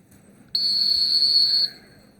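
One long, steady, piercing handler's whistle blast at a Missoula, Montana retriever trial, lasting just over a second, loud and clear against a quiet outdoor background.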